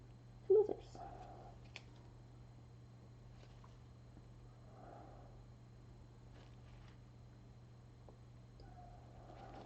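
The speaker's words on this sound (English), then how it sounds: "I hear another kitty cat." A cat meows briefly near the start, then fainter mewing sounds come and go over a low steady hum in a quiet room.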